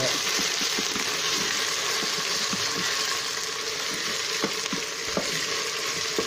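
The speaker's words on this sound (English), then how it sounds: "and garlic paste. Give that a stir." Garlic paste sizzles and spits in hot oil in a pan while being stirred, a continuous close hiss broken by occasional scraping taps of the spoon.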